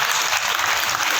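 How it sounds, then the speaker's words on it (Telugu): An audience at a Christmas gospel gathering claps steadily, a dense, even patter of many hands held at one level throughout. "క్లాప్స్ కొడదాం ఒకసారి."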